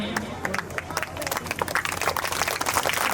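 An audience claps at a children's Independence Day school programme, a dense patter of many hands swelling into steady applause with crowd noise mixed in.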